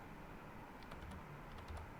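Quiet keystrokes on a computer keyboard while entering a web address in a browser, a few faint light clicks over soft background hiss.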